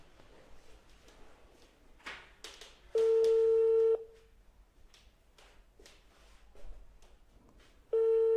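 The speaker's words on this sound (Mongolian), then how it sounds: "За утсан дуудаж байна." A telephone call is placed during a live prize draw: faint keypad clicks and handling noise, then two long, loud electronic ringback tones about five seconds apart, each lasting roughly a second.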